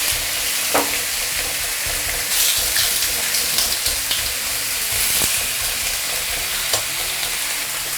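Leftover fish bones, spread thin, pan-frying in hot oil in a wok: a dense, steady sizzle runs throughout, with a few faint clinks and scrapes from stirring.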